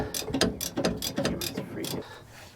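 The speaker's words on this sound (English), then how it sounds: "now I'm getting the final torque on this bolt" A wrench ratchets on a bolt of a Bobcat skid-steer axle bearing shaft during chain case repair, giving about a dozen sharp, uneven clicks close by, then a brief quiet tail.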